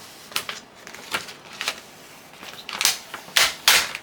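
Sublimation paper peeled up off a Walmart composition notebook, heard as a series of short crisp crackling rips and pulls, louder and grouped toward the end, with quiet gaps between.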